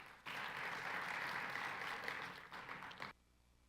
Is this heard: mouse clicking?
no